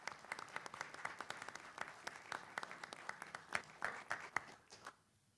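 Audience applause fills a special event hall, a dense steady patter of many hands clapping for several seconds before stopping abruptly.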